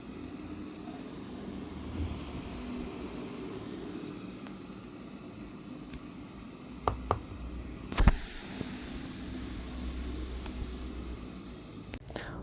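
A GEEKOM A5 mini PC with a Ryzen 7 5825U under full gaming load gives off a quiet, steady fan whoosh, low and broadband, with a few faint clicks and knocks in the room.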